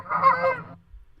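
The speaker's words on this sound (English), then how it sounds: "That's geese." A single goose gives a loud, nasal honk lasting under a second, close and clear, then silence follows.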